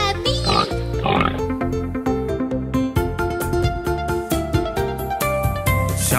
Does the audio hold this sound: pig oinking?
yes